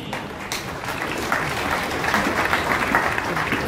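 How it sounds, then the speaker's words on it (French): Audience applause at a gathering honoring national deputies, a dense, continuous roar of many hands clapping at moderate loudness throughout. "Applaudissez s'il vous plaît"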